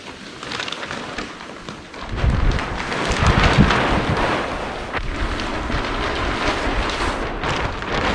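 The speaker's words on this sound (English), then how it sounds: "just starting to rain" Rain beginning to fall outdoors at a shipping container barn build site, with gusty wind buffeting the microphone; a broad, steady rush swells after a couple of seconds and then holds.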